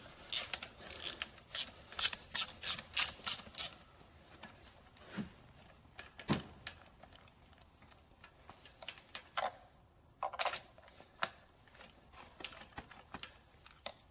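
Ratchet loosening spark plugs on a Citroen C1 engine, quick bursts of fast metallic clicking close by, faint overall, with scattered knocks and pauses in between.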